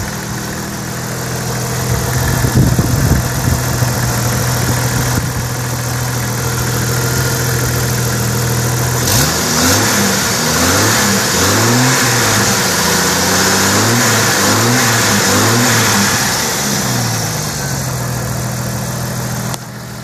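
The engine of a 1994 Jeep Wrangler runs steadily at idle, loud and close, with a low rumble and some brief rises in revs partway through.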